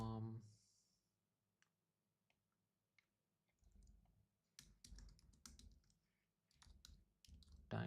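Typing on a computer keyboard comes as bursts of quick, fairly close key clicks with pauses between them, following a short stretch of speech at the start.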